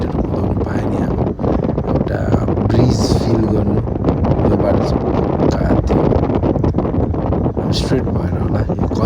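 Loud, continuous wind buffets the microphone while riding a Bajaj Dominar 400 motorcycle along an empty road, a steady roar with rustling gusts throughout.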